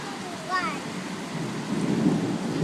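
Low thunder rumbles under steady rain during a June thunderstorm, a broad swelling roll building toward the end, with a brief voice-like sound early on.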